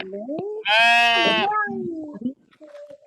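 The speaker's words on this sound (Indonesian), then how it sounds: "ya, kambing atau domba" A goat or sheep gives one loud, drawn-out bleat lasting close to a second, close and clear, with children and an adult talking before and after it.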